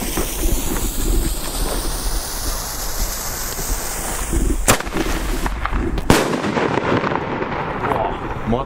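A Titanium Salute Color Thunder King firecracker explodes outdoors with two sharp, very loud bangs a little over a second apart, set against steady wind noise on the microphone.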